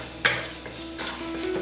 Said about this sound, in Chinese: 把蒜片炒香。